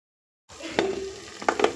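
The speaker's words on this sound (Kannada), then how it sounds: "ಈಗ ನಾವು ಚೆನ್ನಾಗಿ ಬಾಡಿಸ್ಕೊಳ್ಬೇಕು" Tomato masala gravy sautéing in a pan, a soft sizzle broken by a few clinks and scrapes of stirring, close and quiet after a moment of silence.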